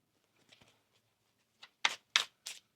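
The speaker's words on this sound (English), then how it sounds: "One more shuffle." Tarot cards are shuffled close by in a quiet room, a few soft faint riffles and then three or four sharper, louder riffling bursts in quick succession.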